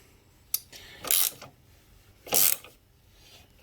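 Ratchet working loose a tight clamp on a brand-new Honda Monkey bike, giving two short bursts of ratcheting clicks about a second apart after a sharp initial tick, close and fairly quiet.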